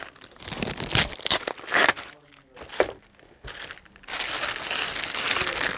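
Plastic packaging crinkles and tears up close as a chrome car accessory is unwrapped, with loud bursts of crumpling broken by short pauses, then steady rustling.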